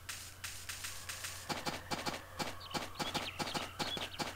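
Horse hooves clip-clop in the farming video game Harvest Moon: A Wonderful Life, a brisk, even run of sharp taps that starts partway in and continues over a faint background hum, with no talk.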